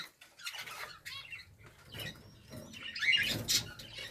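Pet budgerigars squabbling over a swing in their cage, giving scratchy chirps and squawks in short bursts, with faint fluttering and scuffling close by and a louder flurry of calls near the end.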